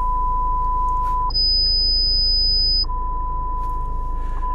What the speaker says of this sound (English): it will do a speaker test and you will probably hear some loud beeping